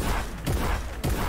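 Gunfire in a video game: a dense, steady barrage of shots with two sharper, louder bursts standing out, loud and close throughout.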